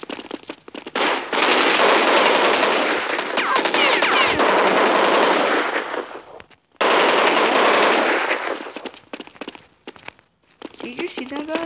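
Rapid automatic gunfire from guns in Counter-Strike 1.6 played on an Android 4.4.2 device, loud dense bursts lasting several seconds with a short gap, followed by a few scattered single shots.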